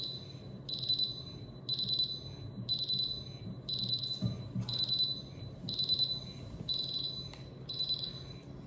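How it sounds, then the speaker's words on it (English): A SENKO SGT-P single gas detector's alarm beeps in a steady rhythm, with about eight high-pitched electronic bursts evenly spaced over a low background hum. "Visual alarm, vibration, and audible alarms provide you"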